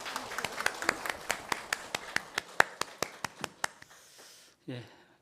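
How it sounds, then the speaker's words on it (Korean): A Korean church congregation at a Sunday worship service claps in slow, unison beats, about seventeen sharp strokes in a steady rhythm. The clapping stops and a short voice sounds briefly at the end. "우리 하나님께 영광의 박수 올려드리겠습니다"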